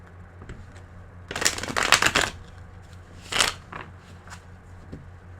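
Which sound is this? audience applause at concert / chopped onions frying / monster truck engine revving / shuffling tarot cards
shuffling tarot cards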